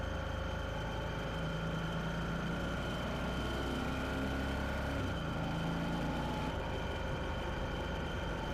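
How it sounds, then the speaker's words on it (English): A group of motorcycles rounding a corner on a ride, a continuous engine rumble heard steadily from nearby, with shifting tones as the bikes pass through the turn. "You can see all the bikes following the corner"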